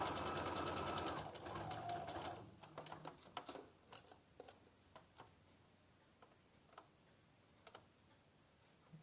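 A sewing machine stitches patchwork fabric over pins, a fast whirring run that stops after about two seconds, followed by scattered light ticks and clicks as the work is handled.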